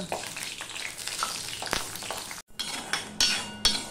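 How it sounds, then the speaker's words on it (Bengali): Lentil dumplings (bori) fry in hot oil with a steady crackling sizzle, broken by a brief pause and several sharp clinks of a utensil against the pan. "বড়িগুলো আমি লাল লাল করেই ভেজে নেব।"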